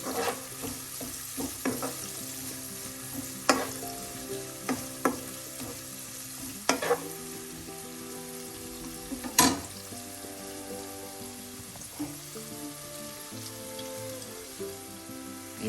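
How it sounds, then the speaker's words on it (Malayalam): Onions, curry leaves and spices frying in a pan for a Kerala-style aavoli (pomfret) fish curry, stirred with a spoon: steady close sizzle with repeated clinks and scrapes of the utensil against the pan, no talk. "ഉള്ളി, എല്ലാം കൂടെ ചേർത്ത് നന്നായി ഒന്ന് മിക്സ് ചെയ്യാം."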